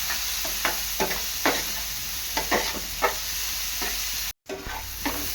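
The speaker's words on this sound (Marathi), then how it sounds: "आता कांदा आपला चांगला लाल होईसपर्यंत शिजवून घेणार आहे" Onion fries in a pan for Kashmiri egg curry with a steady soft sizzle, punctuated by repeated scraping stirs at a close, quiet level.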